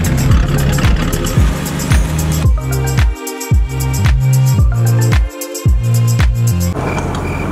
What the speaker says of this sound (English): Now that the car is running